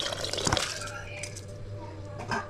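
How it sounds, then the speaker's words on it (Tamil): Rice and lentil water poured into a pot of boiling sambar, a short splashing pour near the start followed by soft bubbling and a low hum, with a brief clink near the end. "இந்த டைமில் நம்ம எடுத்துக்கிட்ட அரிசி பருப்பு தண்ணி கொண்டு சேர்க்கலாம்"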